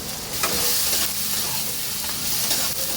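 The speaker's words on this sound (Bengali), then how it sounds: "ভালো করে আমি বেগুনটা পেঁয়াজ টমেটো কালো জিরা এর সঙ্গে ভাজবো।" Eggplant frying in a pan with onion, tomato and black cumin, making a steady, close sizzle with occasional stirring scrapes.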